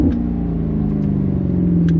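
Maserati GranCabrio V8 convertible, top down in sport and manual mode, its engine holding a loud, steady rev with a smooth droning note heard close up.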